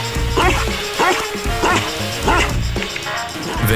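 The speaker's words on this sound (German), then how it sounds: "Das Bellen der Tibet-Dogge ist so laut" A Tibetan mastiff barks loudly and close by, about six deep, booming barks in a steady rhythm roughly every half second.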